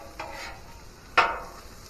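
Corn frying in a pan with bacon and a little jalapeno, a faint low sizzle under two scraping stirs, the second louder, heard close and without talk.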